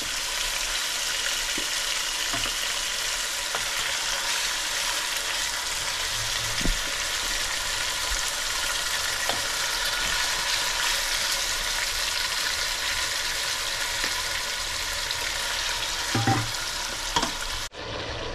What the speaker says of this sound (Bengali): দেখুন এটা হালকা ভাজা হয়ে গেছে।